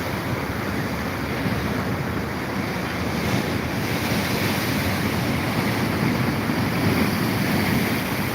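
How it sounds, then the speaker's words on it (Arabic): Steady surf and gusting wind roll along the Alexandria seafront, a dense, continuous roar of breaking Mediterranean waves with wind buffeting the microphone and no voices. "الموج النهارده بيزيد"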